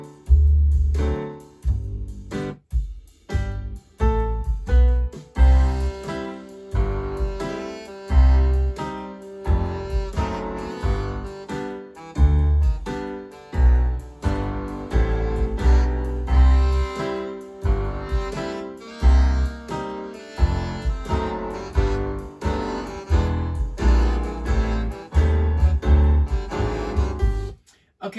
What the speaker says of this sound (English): what you just heard is actually my MIDI scratch tracks. Those are just fake saxophones that I played in last night